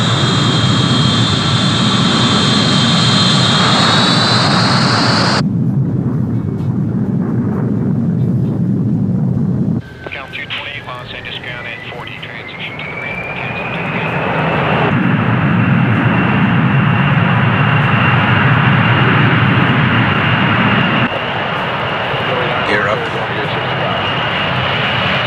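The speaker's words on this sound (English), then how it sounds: "Trans-Allied 136, you're clear for takeoff." A fixed-wing airliner taking off in a film scene, its jet engines roaring loud and close with a rising whine that shifts and swells as it accelerates, with voices over it.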